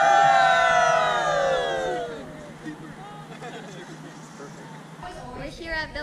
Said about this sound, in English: the couple is going to go for a cheer. You guys are going to cheer.